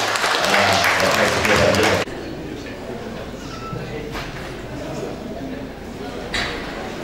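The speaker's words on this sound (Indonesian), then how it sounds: "sekali lagi kita berikan aplaus dulu buat" Audience applause at an agricultural graduates' association gathering held at a university, a loud burst of clapping for about two seconds that cuts off abruptly into a quieter room murmur.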